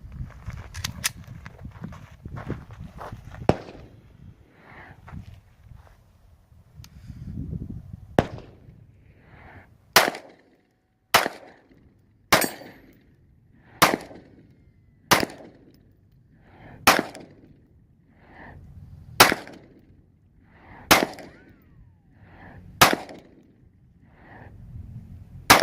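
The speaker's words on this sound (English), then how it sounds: "We have a Walther P229. We're gonna run 2 clips through it." A Walther pistol fires about a dozen sharp, loud shots at a slow, even pace outdoors, each crack followed by a short echo, after some quieter handling noise and distant shots at the start.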